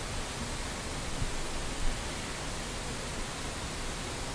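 Base noise from the myNoise generator app: a steady, even wash of broadband pink-like noise, soft and continuous with no variation or talking.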